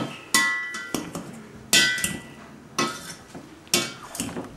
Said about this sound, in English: Mash them.